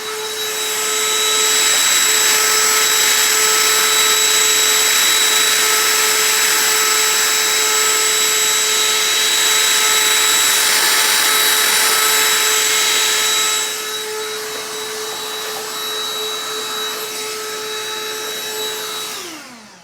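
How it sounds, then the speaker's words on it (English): A vacuum cleaner runs continuously over the keys of a Waldorf Quantum synthesizer, a loud steady whine with a strong tonal hum; the pitch and loudness drop partway through as the suction changes, then the motor cuts off at the end. "so I'll try just vacuuming"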